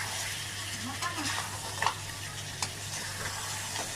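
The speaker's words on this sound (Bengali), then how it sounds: "জাস্ট একটু হালকা একটুখানি জল দেবেন, দিয়ে এইবার একটুখানি ভালো করে নাড়িয়ে মশলাগুলো ঢুকে যাবে পুরো সুন্দর করে" Spices with a splash of water are stirred in a hot frying pan, making a steady sizzle close by with scraping strokes and a couple of sharp clinks.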